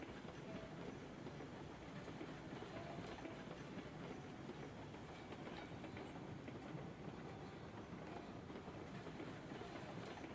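A long, heavily loaded freight train rolls along in the railroad game Railroads Online. A loud, continuous rumble carries a steady clickety-clack of wheels over track throughout, with no talking.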